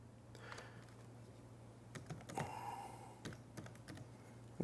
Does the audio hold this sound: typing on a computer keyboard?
yes